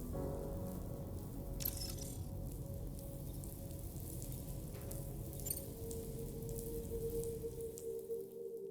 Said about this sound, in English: Raindrops are falling on my head